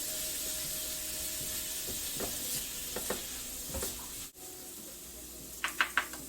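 Vegetables for a steak quesadilla sizzle steadily in a hot pan, with a few soft clicks and taps of stirring over the constant frying hiss.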